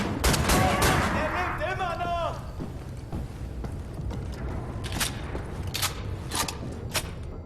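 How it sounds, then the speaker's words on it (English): Dual-wielded shotguns firing in the shooter game Wolfenstein: The New Order, a fast volley of loud blasts at the start followed by a pause and then several more spaced shots, with a sweeping mechanical whine in between. "And now I can dual wield shotguns again. Like so."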